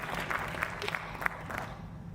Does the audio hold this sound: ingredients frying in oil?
no